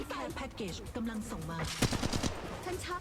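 Guns fire in the Apex Legends Mobile video game, with quick bursts of shots, some in fast automatic runs, crackling under someone talking.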